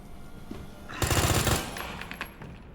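A short, rapid burst of SMG fire from Resident Evil 2 Remake crackles for about half a second and stands out against a low game background with no voices.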